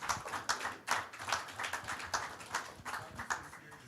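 Audience applause at a press conference: a small group clapping in a steady scattered patter, fairly faint and a little distant, with no talk over it.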